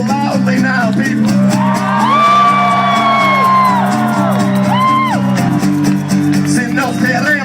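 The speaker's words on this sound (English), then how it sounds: "It's appropriate to cheer loudly now" A large union rally crowd in Los Angeles cheers loudly, with long whoops and yells rising and falling over a steady, sustained musical drone, the voices close, loud and continuous.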